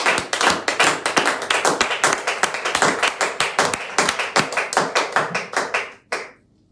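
A church congregation applauds in quick, loud, steady rhythmic clapping that lasts several seconds and then stops abruptly.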